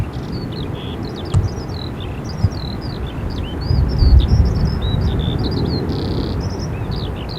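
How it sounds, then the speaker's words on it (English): Small birds chirp and tweet repeatedly in grass beside an airport runway, a steady chorus of short bright calls over a low rumbling background of distant airport noise. "I'd love to know where these birds are. They must be in the grass."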